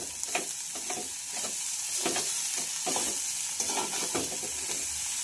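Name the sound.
dried shrimp chutney frying with chili powder being stirred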